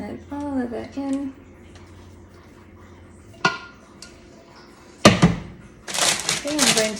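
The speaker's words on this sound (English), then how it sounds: "I'm going to smooth out my paper" Paper being smoothed over freshly poured pumpkin fudge in a pan, with a loud crinkling and rustling burst near the end after a few sharp knocks; a voice sounds briefly at the start.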